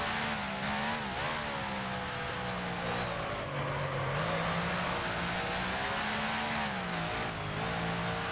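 A Lancia D50 Grand Prix car in a 1955-style racing sim at Oakes Field, its engine note a continuous loud whine that drops and rises as it brakes into a corner and pulls away, with no pauses.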